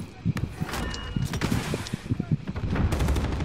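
Rapid bursts of cover fire in the shooter game Call of Duty: Modern Warfare battle royale, sharp repeated gunshots in uneven clusters mixed with footsteps, with a player talking over the shooting.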